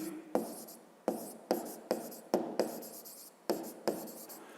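A pen writes a math answer by hand on paper in a quiet room, making a series of about ten short, crisp scratching strokes in quick, uneven bursts.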